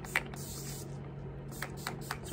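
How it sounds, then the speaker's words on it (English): Bare With Me makeup setting spray misted onto the face in several short, quiet hissing bursts close to the mic. "I'm also going with this Bare With Me setting spray."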